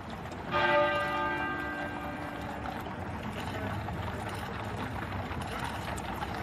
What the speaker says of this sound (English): At 9:08 a.m., the great tenor bell at Westminster Abbey began to toll.